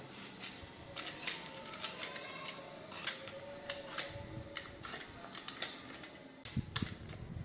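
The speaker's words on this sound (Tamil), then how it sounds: "இந்த மேரக்காயை நல்லா தோலை சீவி எடுத்துக்கலாம்." Chayote being peeled with a blade gives quiet, repeated scraping and crisp clicking strokes at an uneven rhythm, close and soft, with a few louder knocks near the end.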